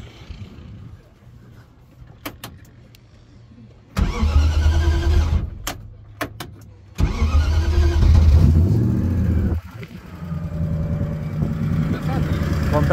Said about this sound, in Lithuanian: yra žmogus, kuriam galiu užvesti mašiną, parodyti, kaip dirba ir jisai įvertins